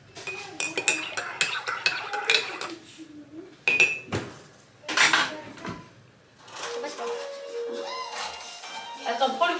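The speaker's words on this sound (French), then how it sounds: "Avec ma grosse cuillère à soupe." A big soup spoon clinking and scraping against dishes, with repeated metallic clatters and clinks in bursts and a few louder knocks, while people talk nearby.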